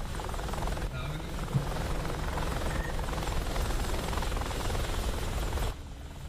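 A helicopter rotor in the video game DCS World beats in a steady, loud, continuous drone that cuts off abruptly near the end, with light talk underneath.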